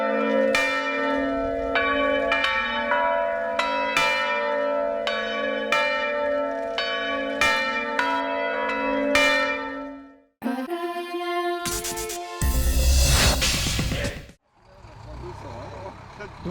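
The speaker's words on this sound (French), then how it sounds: "collecter comme ça les sons des cloches, une par une, dans la façon dont elles sonnent" Church bells strike one at a time in a slow, resonant sequence, each ringing tone left to hang and decay. Afterward the sound cuts to louder, mixed street and vehicle noise.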